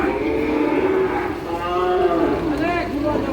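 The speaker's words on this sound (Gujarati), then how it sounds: "આ જો તો કેટલી બધી ગાયો ભાઈ." Cows at a cow shelter moo loudly and close by, with long, drawn-out lowing calls overlapping one another across a few seconds amid a busy background.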